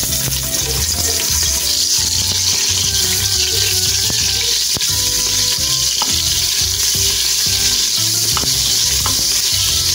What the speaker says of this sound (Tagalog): magigisa lang ako ng sibuyas